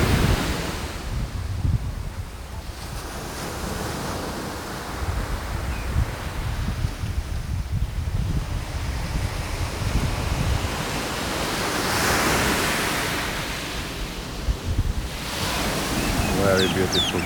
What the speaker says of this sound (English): Very beautiful beach to spend your day at.